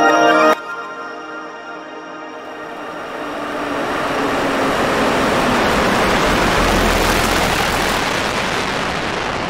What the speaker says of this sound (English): I just started playing with distortion and I ended up with the big distortion tail here